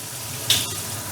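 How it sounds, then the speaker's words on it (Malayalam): A piano-type kitchen sink drains after its knob is turned, a brief gurgling rush of water over a low background hum. "നമുക്ക് ആവശ്യം കഴിഞ്ഞിട്ട് വെള്ളം കളയണം എന്നുണ്ടെങ്കിൽ ഈ നോബ് അങ്ങോട്ട് തിരിച്ചു കൊടുത്താൽ മതി"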